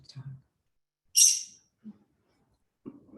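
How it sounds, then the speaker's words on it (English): A single sharp, high bird chirp rings out close by, framed by quiet murmurs of human voice before and after it indoors. "The bird is freaking out."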